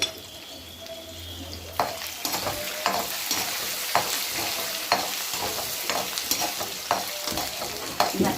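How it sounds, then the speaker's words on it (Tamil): Onions sautéing in a pan for rice upma, a close, steady sizzle punctuated by regular scraping stirs about once a second, starting after a quieter opening, with no talk. "வெங்காயம் நமக்கு நல்லா வதங்கணும்"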